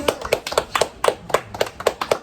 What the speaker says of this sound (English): Now give us applause.